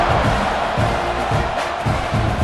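A stadium crowd in EA College Football 26 roars and cheers in steady, swelling waves, loud and close, filling the whole stretch.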